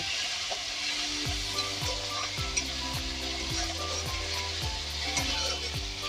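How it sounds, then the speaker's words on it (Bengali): Masala for katla fish kalia frying in a pan with sauce and salt, a close steady sizzle with faint scrapes from stirring, no talk. "এবার আমি মশলাটা কষিয়ে নেব"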